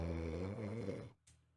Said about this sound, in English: Is that somebody snoring?